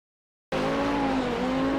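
An Audi 90 GTO race car brakes hard into Canada corner at Road America, with a loud steady engine drone and faint tire noise starting abruptly after half a second of silence.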